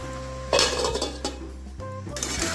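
Vegetables being stirred with turmeric in a pan for a Bengali pui shak and small shrimp chochchori, with clinks of a metal spoon against the pan and a clatter as a lid goes on, close and fairly loud.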